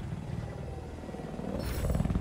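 A helicopter in the video game Battlefield 4, its rotor chopping steadily and growing louder as it comes closer, with no talk over it.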